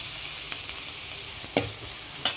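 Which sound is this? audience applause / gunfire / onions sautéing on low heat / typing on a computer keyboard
onions sautéing on low heat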